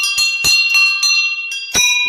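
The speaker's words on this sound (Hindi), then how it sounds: "घंटियाँ लगा रखी है" Temple bells hung by devotees at a Himalayan village shrine ring out in a series of bright metallic strikes, about six clangs at uneven intervals, each leaving a sustained ringing tone, close and loud.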